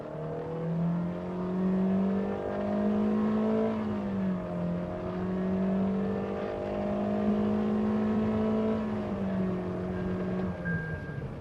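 A Toyota Innova HyCross hybrid MPV engine drones steadily under hard acceleration, its pitch rising and dipping as it strains, loud and close throughout.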